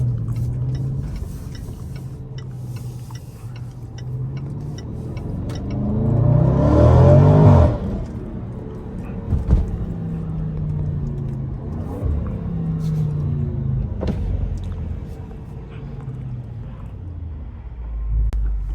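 A McLaren 570S sports car cruises through downtown streets, its engine a steady low rumble that swells into a brief rev and acceleration around the middle, then settles back to a smooth cruise.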